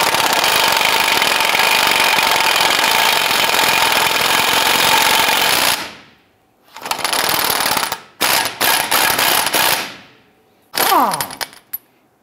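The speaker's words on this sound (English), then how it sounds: "Using a 24 millimeter socket, loosen and remove the lower ball joint nut." A pneumatic impact wrench with a 24 mm socket hammers loose the lower ball joint nut on a 2002-2008 Dodge Ram 1500 front suspension. A long loud rattling burst is followed by several shorter bursts separated by silences.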